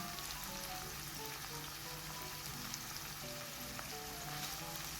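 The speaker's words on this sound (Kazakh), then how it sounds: "Пиязымызды да салып, 2-3 минут жақсылап қуыратын боламыз" Onions fry in a pan with a steady, close, even sizzle and crackle that holds at one level throughout, with no voices.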